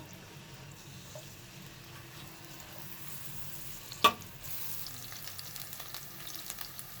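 Chopped onions frying in oil until light brown, a quiet continuous sizzle with one sharp clack of a utensil partway through, no talk.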